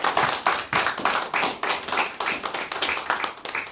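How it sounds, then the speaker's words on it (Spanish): A church congregation claps together in a steady rhythm, roughly two beats a second, the strokes soft and slightly distant, with no voices on top. "Vamos a dar un aplauso para que el Señor..."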